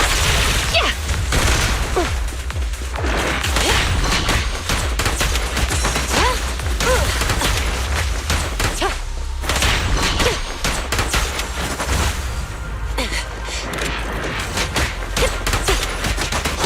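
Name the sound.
gunfire in video game Zenless Zone Zero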